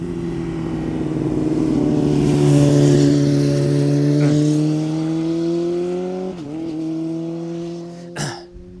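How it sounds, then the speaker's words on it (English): A 6th-generation Honda VFR800 Interceptor motorcycle engine drones steadily and loud as it pulls through corners, pitch holding then dipping, with a brief shift blip near the end. "I just love the sound of the Honda pulling through the corners"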